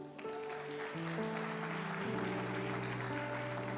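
An audience applauds at an evening church gathering, a steady wash of clapping throughout, mixed with sustained music tones underneath.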